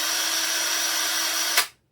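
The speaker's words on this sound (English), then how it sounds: "and then quickly drill out a hole." A power drill with a 1.5 or 2 mm bit bores a small hole, a steady high whine held close up for about a second and a half before it abruptly spins down to silence.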